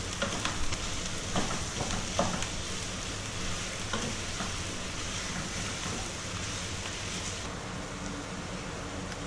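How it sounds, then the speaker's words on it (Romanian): Meat sizzles in a pan with softened onion for varză à la Cluj, a steady crackling fry throughout with occasional louder pops and stirring scrapes near the start. "Când ceapa s-a înmuiat, adăugăm carne. Și o lăsăm să se călească puțin"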